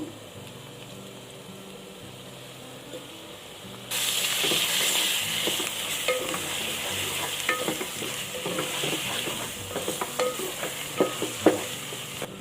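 Ginger garlic paste hits a hot pan after a quiet start, bursting into a loud, close, sustained sizzle with crackling spatters and occasional stirring scrapes that grow more frequent toward the end.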